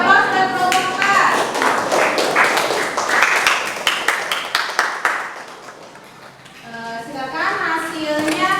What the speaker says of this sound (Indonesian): Kasih aplaus dan kelompok 4.